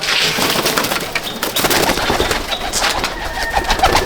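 Kalduma pigeons in a loft coo and flutter, a dense, continuous chorus of close bird calls with scattered wing and wooden scratching sounds throughout.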